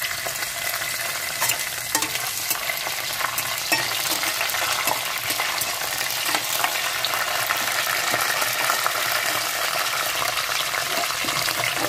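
Curry leaves and green chillies crackle and sizzle in hot oil with whole spices (cardamom, cloves, cinnamon, cumin, bay leaf), a steady close frying hiss with faint stirring for the whole stretch, no talking.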